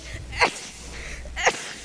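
Two quick sneezes, about a second apart, each a sharp burst against a faint background.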